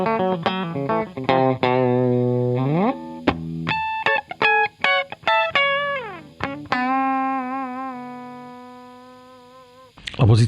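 Electric guitar in the third pickup position through a cocked wah, played alone as a nasal, distorted string of bright bent notes and quick picked phrases, with a long sustained tone fading out before a final sharp strum.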